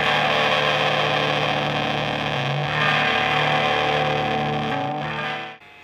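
A Madbean Aquaboy delay pedal being calibrated gives a loud, dense, distorted guitar tone with smeared repeats that hold steady before cutting off abruptly at the end.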